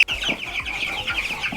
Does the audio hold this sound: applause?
no